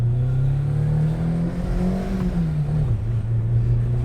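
A Renault Twingo 1 drives and accelerates at low speed, its engine note climbing and dipping smoothly in a steady whirring drone heard from inside the car, with no speech.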